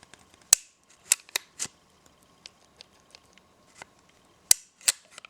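Sharp metallic clicks and clacks from working the slide and release of a Benelli MP 90S pistol chambered in .32 S&W Long wadcutter, several isolated close snaps spread irregularly over quiet background.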